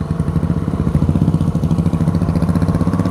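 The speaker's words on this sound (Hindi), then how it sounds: "सारी बाइकों को एक बार आगे निकलने देते हैं।" A group of motorcycles on a Sunday ride passes close by, a loud, continuous rumble of several engines throbbing together with rattling clatter and no voices.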